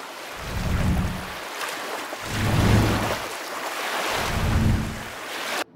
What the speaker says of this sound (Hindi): राका गहरे समुद्र में गोते खाने लगा।